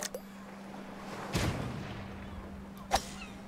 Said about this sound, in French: Non, mais c'est les canons, hein.